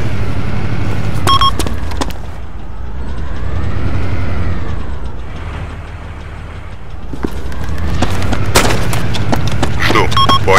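Gunfire and heavy booms from a Russian Army versus CDF Army battle in Arma 2, with sharp loud reports near the start and end and a rumbling vehicle-like drone between, under radio-style voice chatter.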